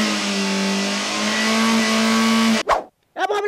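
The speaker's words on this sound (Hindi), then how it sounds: "कौन सा लोग के बेटा बाहर है? इतना तेज से गाड़ी चलावा था?" A car's engine roars loud and steady as it speeds close past, then cuts off abruptly, followed by brief scraping bursts.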